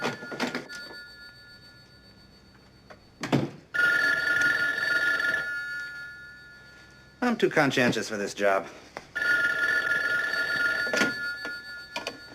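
An old landline telephone bell rings loudly in long sustained bursts, with short gaps between rings, in a 1970s detective drama. Someone speaks briefly in between.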